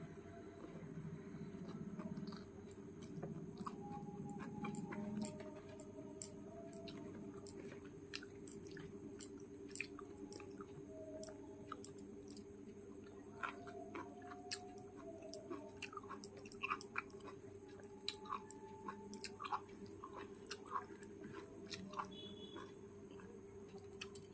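Quiet, close chewing and soft wet bites as someone eats a curry of bottle gourd greens with prawns, with a faint steady hum and a few light clicks in the background.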